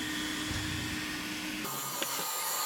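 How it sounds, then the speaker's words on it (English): A robot vacuum cleaner with retractable legs for climbing over doors, sills and small steps runs steadily on the floor, a continuous whirring motor hum with brush noise and a brief click partway through. "This is the world's first robot vacuum with retractable legs, helping it get over doors,"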